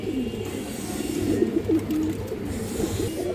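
A close pair of colourful Bagha fancy pigeons coos continuously in soft, rolling, repeated phrases, and the calls overlap throughout with no voices.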